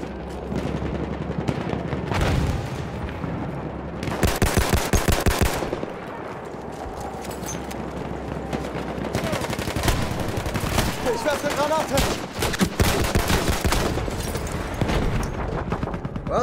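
Gunfire in Battlefield 1 rattles nearly nonstop through a trench fight, with rapid machine-gun bursts and heavier booms, loud and close, while a voice talks faintly at times.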